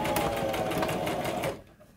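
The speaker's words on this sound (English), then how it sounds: "I'm going to lift up my presser foot and skip forward a couple inches, drop it back down." A sewing machine runs steadily, stitching fabric for a tote bag, then stops near the end, leaving a quieter room with no voices.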